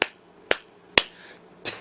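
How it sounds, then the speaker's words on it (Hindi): Three sharp hand claps spaced about half a second apart, close and crisp in a quiet room, followed by a softer, breathy burst. "3 तालियां बजा के"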